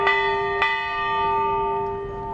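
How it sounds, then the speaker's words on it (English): A bell marking the end of a polo chukker at an international match rings twice in quick succession, clear ringing tones hanging and fading slowly in an open outdoor setting. "There's the bell."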